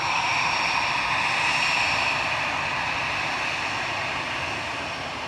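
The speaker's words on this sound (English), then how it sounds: "With flight 701 to Belfast now, A320 Classic lining up." An EasyJet Airbus A320 lines up on the runway at Manchester Airport, its jet engines giving a loud, steady whine and roar that fades slightly toward the end.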